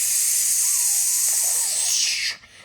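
A voice imitates a pressure cooker valve releasing steam: a loud, steady hiss lasting about two seconds that cuts off abruptly.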